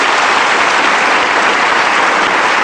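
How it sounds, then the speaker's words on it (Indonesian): Steady, dense applause from a theatre audience honoring the long-running Teater Koma troupe, loud and continuous throughout with no talk over it. "Itu perlu dikasih tepuk tangan."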